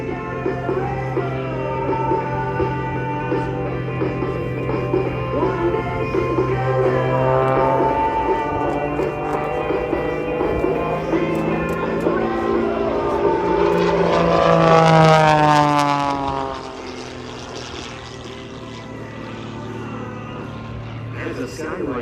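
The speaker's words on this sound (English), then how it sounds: "flies the Ghostwriter into the vertical for his next" The Ghostwriter skywriting plane climbs into a vertical maneuver at an airshow, its propeller engine droning steadily and then swelling louder with a rising, shifting whine before easing off.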